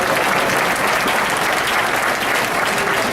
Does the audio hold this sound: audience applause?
yes